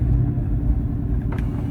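Ford F150 Tremor with a 5.0 V8 Coyote engine and open exhaust, a deep loud steady rumble heard close, with a short sharp burst near the end.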